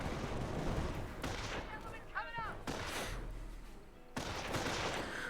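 Gunfire from a Company of Heroes battle, with a steady dense crackle of weapons and explosions under continuous battle noise and a short whistling sound partway through.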